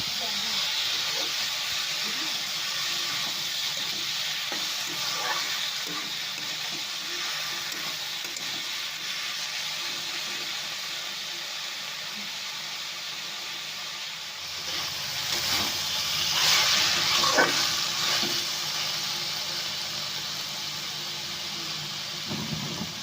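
Boiled fenugreek greens fry in a hot pan, a steady broad sizzle and hiss that swells briefly as the greens are stirred, with faint speech.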